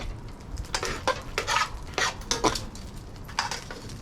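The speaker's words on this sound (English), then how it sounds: "Just gonna bloom the garlic a bit." Garlic blooming in a pot for beef stew, with a utensil clinking and scraping against the pot in close, uneven strokes over a low steady background hiss.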